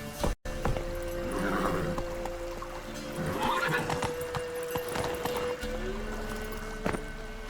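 Roach the horse in The Witcher 3, a close neigh and whinny over steady clip-clop of hooves, with a quiet voice urging it on.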